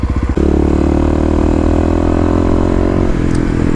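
A Kawasaki KLX351 motorcycle being ridden during break-in, engine loud and close. A few quick pulses lead into a steady, humming cruise that holds with the pitch level, then dips slightly near the end.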